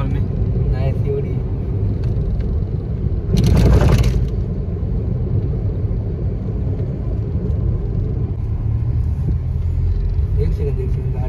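A Wagon R car drives and pulls over, its engine rumbling steadily up close with a brief louder scraping burst partway through, while people talk inside.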